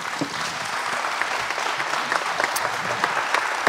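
Sustained applause from a room full of people after a roundtable debate on biodiversity and water, dense steady clapping with no speech over it.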